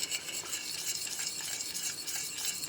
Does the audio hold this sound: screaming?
no